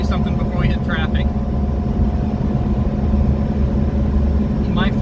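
A Pajero Mini kei car running flat out at full throttle, its small engine droning loud and steady from inside the cabin, with a voice speaking briefly over it.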